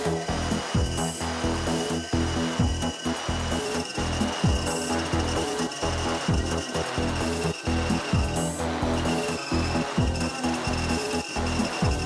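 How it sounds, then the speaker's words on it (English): A power saw cuts through a piece of white oak wood for a replica Viking axe, a busy rasping roar with repeated rhythmic strokes and knocks, close and continuous throughout. "where I've drawn out my lines of where we're gonna cut along this piece of wood to make Ragnar's axe"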